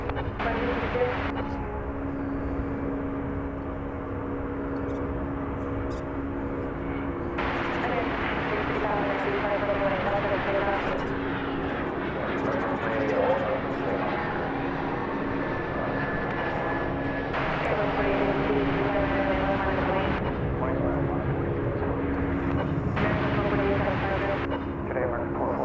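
An airplane at DFW Airport produces a continuous engine roar and hum that shifts in intensity over time, with a person talking over it.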